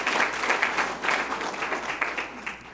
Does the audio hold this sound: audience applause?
yes